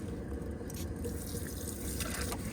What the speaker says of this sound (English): if you press the trigger gun, you've got a cold water shower for hosing the bikes off the boots